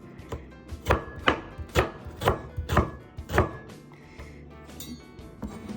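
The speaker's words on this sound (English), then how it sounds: "Slice this onion, put it aside." A knife slicing an onion on a cutting board gives a steady series of close, crisp chops, about seven evenly spaced, then fades into quieter handling.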